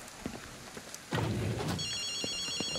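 A telephone rings inside a phone booth in the video game Ghostwire Tokyo, a bright repeating electronic ring entering after about a second and continuing over a low rumbling ambience, with a higher ringing tone layered in near the end.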